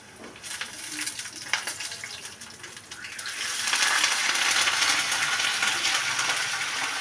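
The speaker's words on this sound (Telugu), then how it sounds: "అలాగే కొంచెం తరిగి పెట్టుకున్న అల్లం, 4 పచ్చిమిర్చి, 3 రెబ్బలు కరివేపాకు వేసుకుని ద్వారగా వేయించుకోవాలి." Ginger, green chillies and curry leaves frying in hot oil in a pan, a soft sizzle swelling into a steady, louder crackle partway through, with faint clinks of a spoon stirring.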